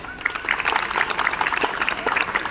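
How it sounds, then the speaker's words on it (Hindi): Audience applause for Khalid Siddiqui, a man from Darbhanga, fills the room as a steady patter of clapping hands at moderate volume, with a faint trace of voices mixed in. "एक बार खालिद सिद्दीकी के नाम से ताली बजा दी।"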